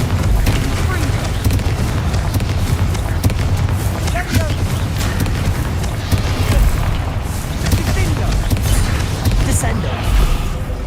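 Confringo spell explosions in the Hogwarts Legacy video game, a dense, loud barrage of booming blasts and rumbling impacts running continuously, mixed with game effects and some voice.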